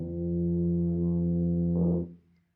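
A tuba sounds an open F just below the staff, played with no valves pressed, as one steady, sustained low note lasting about two seconds that swells slightly before cutting off, alone and fairly soft.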